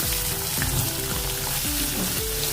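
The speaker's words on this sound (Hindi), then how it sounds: "प्याज को हम थोड़ा सा कलर आने तक भुनेंगे।" Onion fries in hot oil with cumin, mustard seeds, a pinch of asafoetida and curry leaves as the base for a black-eyed pea curry, making a loud, steady sizzle with stirring scrapes throughout and no voices.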